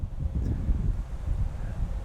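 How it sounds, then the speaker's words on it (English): Gusty wind buffets the microphone outdoors at night, a steady low rumble with no pauses and no voices, while a Thrunite TN36 flashlight is being shown. "It's a bit windy out here."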